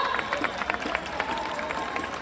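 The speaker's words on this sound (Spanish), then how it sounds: "un aplauso." Audience at a concert in Ribeira breaks into dense, steady applause that fills the whole stretch, with voices mixed in.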